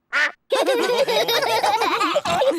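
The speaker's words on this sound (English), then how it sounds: "Daddy Pig, did you know you've got a duck on your head" A cartoon duck quacks loudly in a short burst, then keeps up a long run of nasal, wavering quacks in a cartoon pond scene, close and clear with no talk over it.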